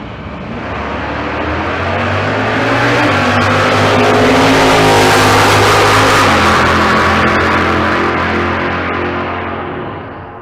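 A Nova and a 1967 Camaro launch side by side at a Bandimere drag strip, engines building from a growl into a loud, full-throttle roar with a gear change midway, then fading as the cars pull away.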